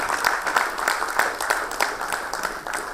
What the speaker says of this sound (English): With a great round of applause, please help me welcome Shri K K Ramani